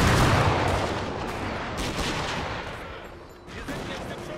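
Cannon fire in Napoleon Total War, a dense burst of booming artillery shots rolling together into a loud, rumbling barrage that fades and rises again, with a faint voice underneath.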